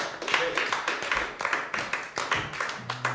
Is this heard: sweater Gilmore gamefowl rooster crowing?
no